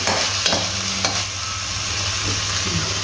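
Shredded, mashed chicken being stirred in a hot pan for a street-style burger filling: a loud, close sizzle with a few sharp spatula scrapes and knocks against the pan over about three seconds.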